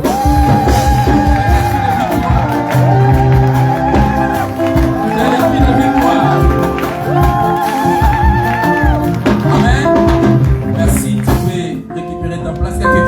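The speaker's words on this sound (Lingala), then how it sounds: "Alors je te prie de dire amen avec des cris de victoire" A church congregation shouts cries of victory, a loud sustained mass of yelling and whooping voices mixed with music, continuous for several seconds before easing slightly at the end.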